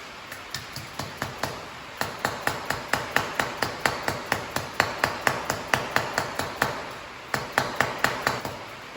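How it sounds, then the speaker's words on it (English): A plastic dead blow hammer pounds on a metal part of a Versatile 895 tractor, striking in a steady, fast series of sharp, close blows with a brief pause partway through. "Let me grab my trusty dead blow hammer here. I'm going to pound on that a little bit"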